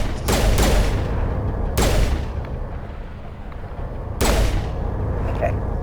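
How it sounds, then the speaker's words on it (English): Close, loud pistol shots crack in Mass Effect Legendary Edition, with a pair of quick shots, a third a moment later and another after a longer gap, each ringing out over a steady background of game noise. "let's get out the pistol"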